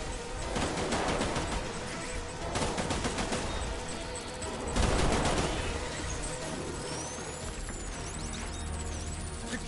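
Bursts of rapid gunfire fill a firefight in the video game Death Stranding on PS5, loud volleys returning in waves over a steady background, with a few high whistling tones near the end.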